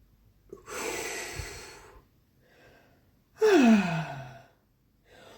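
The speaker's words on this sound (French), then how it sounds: "Et à partir de là, grande inspire. On vide l'air." Deep breathing exercise: a long audible inhale followed by a strong exhale with a falling, sighing tone, then a faint trailing breath, close and alone.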